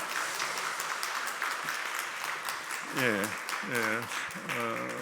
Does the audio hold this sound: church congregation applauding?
yes